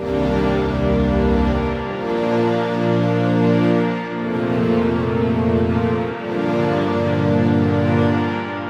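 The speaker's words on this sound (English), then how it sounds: "it's a string pad patch, sounds like this." A lush Serum synthesizer string pad patch plays sustained chords that swell and change every couple of seconds, smooth and full, with no talking.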